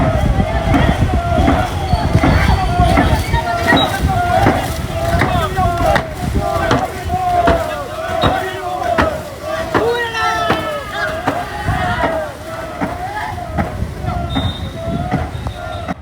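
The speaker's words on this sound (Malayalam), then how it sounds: "ചങ്ങനാശ്ശേരി ബോട്ട് ക്ലബിന്റെ ചമ്പക്കുളം ചുണ്ടന്റെ ട്രയൽസ് ആയിരുന്നു നമ്മൾ കണ്ടത്." The Champakulam snake boat crew of a boat club rows a race trial on a canal, the oars splashing and chopping in a fast, regular rhythm alongside loud chanting and crowd voices throughout.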